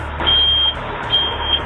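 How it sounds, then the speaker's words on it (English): Electronic alarms sound after a boiler explosion, high steady beeping tones repeating in bursts over a low background rumble, moderately loud and close. "The air is dense with debris, and you can hear alarms going off."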